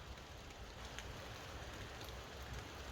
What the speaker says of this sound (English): it is raining and so foggy